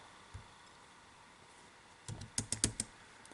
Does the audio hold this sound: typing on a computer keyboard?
yes